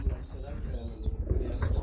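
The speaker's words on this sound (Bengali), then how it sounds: "আমরা আরেকটা জোড়া দেখাবো, গ্রিজেল কবুতর রয়েছে।" Grizzle pigeons at a pigeon farm cooing close by, soft repeated low throaty coos running through the moment.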